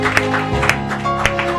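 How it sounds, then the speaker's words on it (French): Studio audience applause during a morning radio show, a steady wash of clapping with a few sharper claps standing out, mixed with background tones over a short stretch. "Vos applaudissements s'il vous plaît pour Ariel Chenet"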